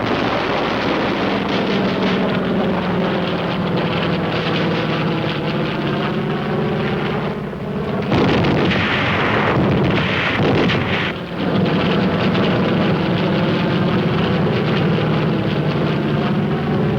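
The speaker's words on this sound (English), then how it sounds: "Navy air comes strafing. And Marine air with rockets and napalm to burn them out." Navy aircraft strafing and Marine rocket attacks in the Korean War: a continuous loud roar of engines and explosive rumble, with heavier bursts around the middle, no voices heard.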